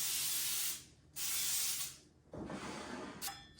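Three short bursts of cooking spray hissing onto a cake pan for greasing, close and bright with brief gaps between them.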